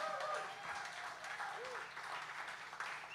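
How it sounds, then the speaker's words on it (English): A live audience applauds a band at an outdoor-style music broadcast venue, producing a moderate, even patter of many clapping hands, fairly distant and steady for the whole stretch. "Give them a round of applause."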